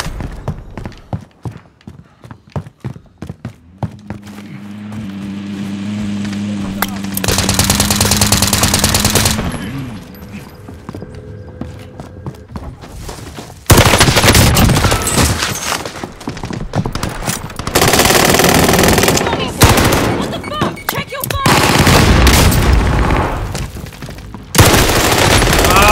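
Video game firefight with heavy machine gun fire, dense bursts of rapid automatic shots loud and near, broken by brief lulls and booms.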